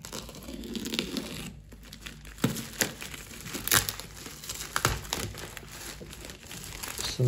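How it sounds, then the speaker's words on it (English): A cutter slices open the product packaging of a MOOER GE100 guitar effects unit, with close crinkling, tearing and rustling of plastic and cardboard and a few sharper snaps throughout, no voice. "We have our cutter here. So let's just cut"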